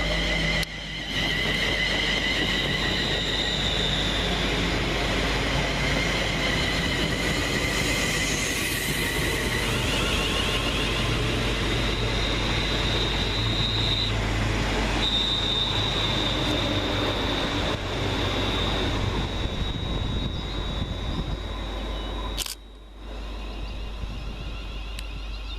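Class 350 electric trains pull into Leighton Buzzard station, with a loud continuous rumble of rolling wheels, high metallic squeals and a steady electrical whine building and fading over about 25 seconds.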